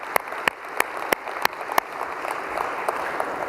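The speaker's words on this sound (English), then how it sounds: "How about another great round of applause for this fantastically talented band?" Applause for a live band at a Land Rover Range Rover Evoque press conference, a spread of clapping with several sharp, louder claps standing out early and a steady patter continuing to the end.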